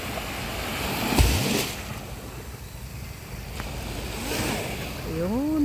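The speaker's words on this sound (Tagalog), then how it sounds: "maganda ang tunog ng tubig ko" Water by a swimming pool in the early morning, a steady wash of broadband noise with a brief splash-like burst near the start and a voice briefly speaking toward the end.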